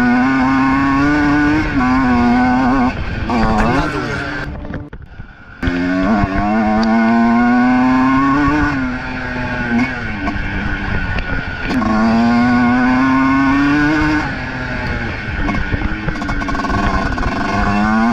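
A TM 125 two-stroke motocross bike rides the dirt track at Dorno, its engine rising and falling through repeated revs and gear changes, with a brief drop-off midway before it screams back up, loud and close throughout.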